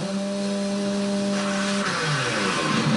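A chainsaw in Doom 3 runs with a steady buzzing whine. Near the end the pitch wavers and shifts into a rougher churn, loud and close with no talk.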